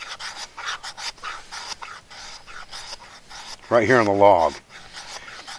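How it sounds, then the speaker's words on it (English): Slow, steady rasping of a knife spine scraping shavings off a ferrocerium rod onto a log, soft repeated strokes close by, with someone talking briefly partway through. "we're going to take the back of our knife, and we're just going to start to slowly scrape shavings off of this rod in a small pile"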